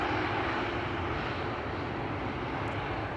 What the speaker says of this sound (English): Bombardier C-Series 300.